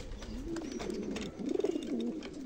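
Pigeons coo close by in soft, rolling low calls, a few rising and falling phrases in quick succession with no talking.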